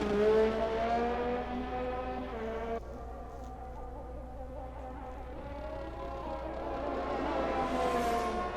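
Race cars lapping the Spa circuit in a racing video game, a sustained whining engine tone rising and falling in pitch through gear changes, steady and fairly loud with no talk.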